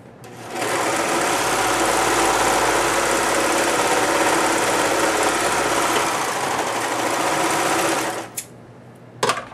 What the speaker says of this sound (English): A serger makes quick work of this because it does the stitch and the edge finish at the same time.